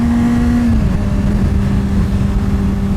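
A Honda CBR600RR 600cc sport bike engine holds a high, droning rev, loud and close, its pitch easing slightly downward partway through and then staying steady.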